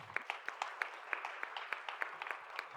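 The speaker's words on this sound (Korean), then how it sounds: "우리 청년부에 새롭게 온 형제자매들을 환영하며 환영의 박수 드리겠습니다" Applause at a church youth service welcoming new members, a thin, fairly quiet patter of individual claps from a small group, steady throughout.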